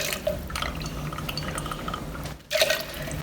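Two ounces of seven-year-old Canadian rye whiskey from Collingwood, Ontario pours into a glass or jigger, a short liquid splash and trickle over a steady low background, briefly pausing before a second brighter splash.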